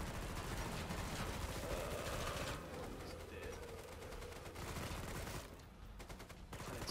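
An H&K firearm shooting in the video game Killing Floor 2 fires sustained, fairly slow bursts of gunfire that stay loud and dense across the whole stretch, with a brief lull near the end.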